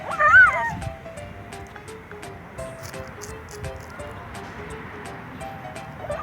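A cat gives a short meow near the start while playing with a tasseled string, followed by soft rustling and faint background sounds.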